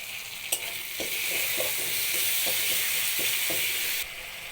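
Chopped tomatoes frying with a spice paste in a pan: a steady sizzle carries a regular rhythm of stirring scrapes, and the sound drops off sharply near the end.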